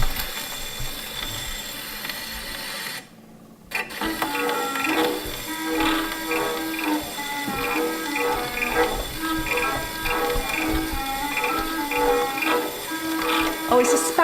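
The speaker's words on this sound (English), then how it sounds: "Oh, you can hear the maracas going in the background." Spanish tango music playing from an old record or machine inside a manor house, with a steady rhythmic pulse and a light shaking percussion like maracas running through it, after a short dropout near the start.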